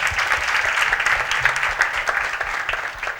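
Sustained audience applause at a Hindi-language satsang gathering, a steady wash of many hands clapping close by, loud and continuous for the full stretch.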